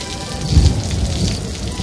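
Heavy rain pours in an animated children's fable, with a low rumble of thunder swelling briefly in the middle of a short, loud, steady downpour.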